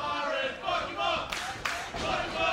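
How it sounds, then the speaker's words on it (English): A wrestling crowd at a H.O.S.S. 2023 first-round match cheers and shouts continuously, loud and close, with bursts of louder yelling swelling over the steady roar. "You hear the opinion of the crowd here."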